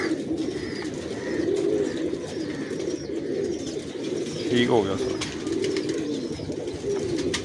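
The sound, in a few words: pigeons cooing in breeding loft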